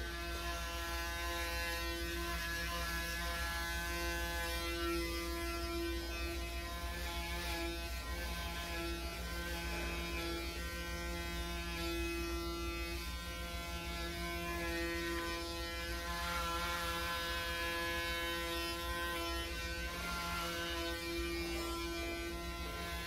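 A Braun Series 9 electric shaver buzzes steadily and continuously for the whole stretch, a close, droning motor whine with no voices.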